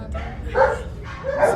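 A puppy yips and barks twice in quick succession, close by, with soft indoor background noise.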